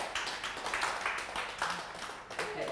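Audience clapping at an evening wellness training event on Forever products, a steady, moderately faint patter of many hands with no break.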